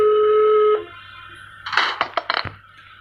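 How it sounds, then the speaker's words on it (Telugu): A phone in the video game Evil Nun dials out: a long steady tone cuts off, then a quick series of loud keypad beeps follows, close and clear with no voices. "మనం ఈ ఫోన్ నెంబర్కి అయితే ఫోన్ చేద్దాం."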